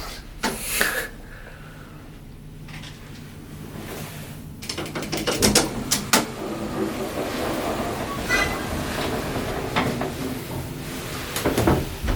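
Large swing door on an old, worn Turnbull hydraulic elevator, clunking and knocking as it moves, with a scatter of sharp metallic bangs and rattles over a low mechanical rumble.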